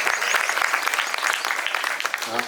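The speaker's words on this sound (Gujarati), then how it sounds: "એટલે આપણે જોરદાર તાળીઓથી એમને વધાવીએ." A school audience at a children's poetry gathering gives dense, sustained applause to the young poets, with clapping kept even and lively throughout.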